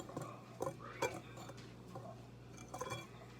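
A spoon stirs cinnamon muffin mix in a bowl, giving a run of close, light clinks and scrapes at an uneven pace.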